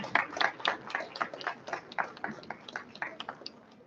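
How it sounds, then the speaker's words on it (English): An audience at a graduation ceremony applauds, a steady patter of many hands clapping in a fairly distant, moderately quiet wash that continues without a break. "let's give a huge round of applause to His Excellency,"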